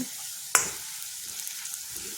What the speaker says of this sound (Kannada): ಈರುಳ್ಳಿ ಹಾಕ್ತೀನಿ ಇದನ್ನು ಚೆನ್ನಾಗಿ ಗೋಲ್ಡನ್ ಫ್ರೈ ಮಾಡ್ಕೊಳ್ಳೋಣ